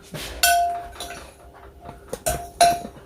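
Cooking chicken crescent rolls: a utensil clinks and scrapes against a bowl as ingredients are mixed, giving a few sharp metallic taps and ringing knocks with quieter stirring between them, and no talking.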